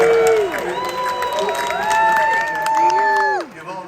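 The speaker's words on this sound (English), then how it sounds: "We'll do another round of applause." An audience greets William Shatner with applause and cheering, a loud continuous crowd roar with claps and shouts, while voices call out over it.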